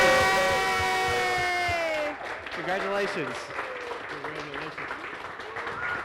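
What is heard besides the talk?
audience applause and cheering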